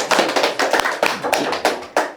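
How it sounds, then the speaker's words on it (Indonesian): Hands clapping close and loud in a quick, slightly uneven run of about a dozen claps, with no talking. "Saya tepuk tangan buat suami aku"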